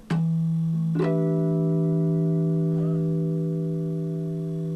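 Bell-like guitar harmonics from a recording ring out in two plucked chimes, sustaining and slowly fading as clear, steady tones with no voices.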